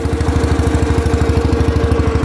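Nearby, a garden tractor engine chugs along in a quick, regular throb, loud and unbroken for a couple of seconds without any talk.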